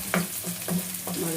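Ingredients sautéing in a pan for pancit bihon, a steady close sizzle broken by three rhythmic scrapes of a spatula stirring, with no voices.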